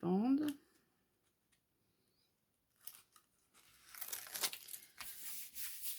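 A strip of adhesive tape peels away from a backing during a craft project, a rough tearing crackle that comes in uneven bursts after a short spoken phrase and a stretch of quiet.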